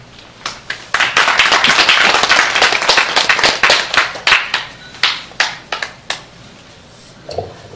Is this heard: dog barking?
no